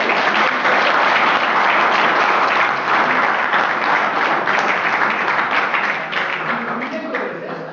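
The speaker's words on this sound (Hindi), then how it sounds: "आपको ताली तेज तेज बजानी है।" An audience at a college talk claps loudly on request, a dense, sustained roar of applause from a large crowd, close and even, tapering slightly toward the end.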